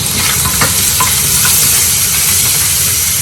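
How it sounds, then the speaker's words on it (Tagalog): Chopped shrimp paste (alamang) fries in a hot pan, a loud dense sizzle with faint scraping from stirring. "Lagay ko na itong alamang tagtag. Ayan."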